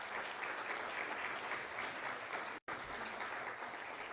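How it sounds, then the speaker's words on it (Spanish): An audience applauds a teacher at a labor conciliation event of the Nuevo León state judiciary. The clapping is dense, continuous and even, broken only by one very brief dropout, and no voices are heard. "Un aplauso para ella"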